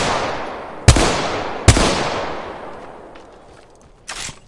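Two sharp, loud gunshots crack close by in a video game, each trailing into a decaying echo, followed later by a shorter burst of shots.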